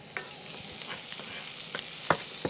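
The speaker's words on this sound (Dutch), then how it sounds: "En terwijl die uien aan het bakken zijn, schuiven ze aan de kant." Onions sizzle and fry in oil in a pan, with a steady crackling hiss and occasional stirring scrapes, outdoors among tomato plants.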